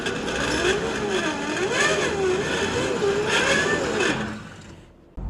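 A 2025 Toyota Camry Hybrid accelerates, its engine and motor whine rising and falling in pitch at moderate volume before fading quickly near the end.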